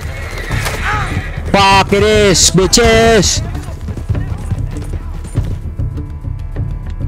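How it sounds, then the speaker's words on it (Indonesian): Horse neighing and whinnying in Red Dead Redemption 2, two loud drawn-out whinnies in the middle over steady hoofbeat clatter and game noise, with someone shouting in the foreground. "Kuda, langsung ke kuda."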